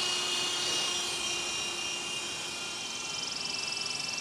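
An MJX F46B RC helicopter in flight gives off a steady, close, high-pitched rotor and motor whine with a broad airy rush, holding constant throughout with no voices.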